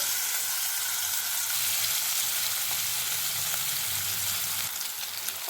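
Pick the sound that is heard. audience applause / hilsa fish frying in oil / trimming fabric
hilsa fish frying in oil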